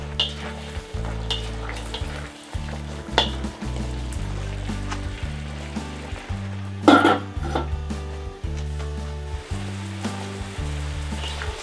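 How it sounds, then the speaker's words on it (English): Scallop dish with light soy sauce simmering under a lid in a pan over low heat, giving a steady sizzle with repeated clinks and knocks of pan and utensils, no talk. "Stir, then put a lid. Let simmer for 15 minutes over low heat."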